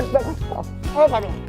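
A dog barks in a few short, yappy bursts close by while someone talks over it excitedly.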